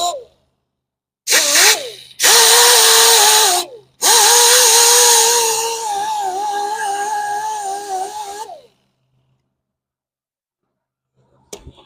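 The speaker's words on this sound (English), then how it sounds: "everywhere I just used the grinder" A grinder works curb rash on a Corvette wheel, running in several loud close bursts of whining tone separated by short pauses before it stops into silence.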